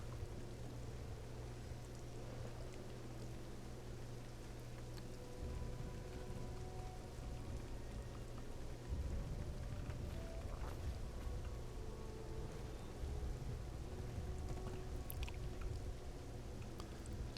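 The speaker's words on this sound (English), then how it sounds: "And I can hear the rain and stuff." Steady rain pours through a lightning storm in the online game Black Desert Online, a continuous broadband wash with heavier bursts partway through and a low rumble beneath, no talking.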